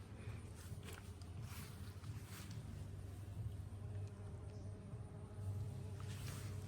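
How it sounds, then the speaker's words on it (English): Bees buzz around a cucumber trellis in a home vegetable garden, a steady low hum with several brief louder passes close by, no talking. "There is bees all over."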